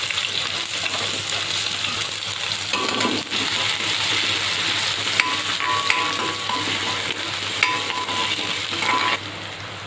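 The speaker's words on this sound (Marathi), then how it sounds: "जिरं असं छान भाजलं की त्याच्यामध्ये आपल्याला कांदा घालायचा।" Onion fries with cumin in two to three spoons of hot oil for an egg curry, giving a loud, continuous close sizzle with faint stirring scrapes and small clinks; no talking.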